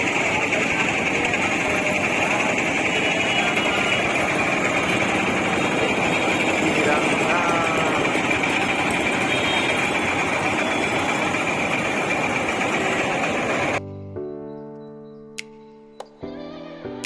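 A train locomotive idling outside Dwarka station, a loud steady rumble and rattle running continuously, then cutting off abruptly to near silence with a few clicks.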